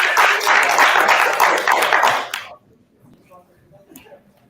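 A short burst of audience applause at a university dApp development course event as a team comes to the stage, dense clapping for about two seconds before cutting off into quiet room sound.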